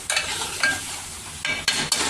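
Masala fries in hot oil in a pan with a constant sizzle, broken by several sharp scraping stirring strokes spaced unevenly across the clip, close and fairly loud.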